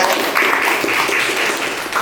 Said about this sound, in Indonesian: tepuk tangan untuk Aresta jawabannya